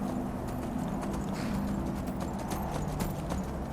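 Shadowmere, the horse from the video game Skyrim, trotting close by with a steady, rapid clip-clop of hooves that continues without a break, a faint whinny mixed in.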